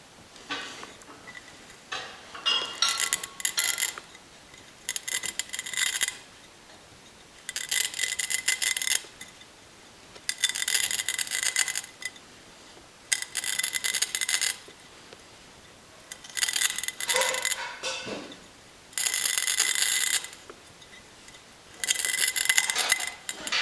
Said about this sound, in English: I will rest the cutter up against the angle and turn it around.